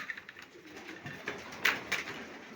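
Pigeons coo softly in a few short, throaty bursts against a faint outdoor background.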